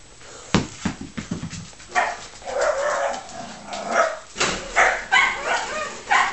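Several dogs bark and yip close by in short bursts, a quick run of sharp barks followed by whimpering and more excited barking, while they go after a potato.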